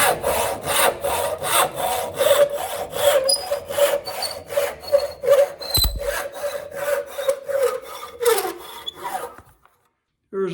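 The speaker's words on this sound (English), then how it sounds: "Here's our crosscut saw. This is what it's made to do." A crosscut hand saw works through wood in quick, rhythmic back-and-forth rasping strokes, close and loud, then stops and falls quiet near the end.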